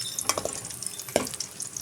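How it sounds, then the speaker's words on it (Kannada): Paneer sticks fry slowly in oil over a medium flame, a low sizzle with a few sharp crackles and the occasional stir or turn, close by with no talking. "ರೀತಿ ನಿಧಾನವಾಗಿ ಫ್ರೈ ಮಾಡ್ಕೊಳ್ಬೇಕು"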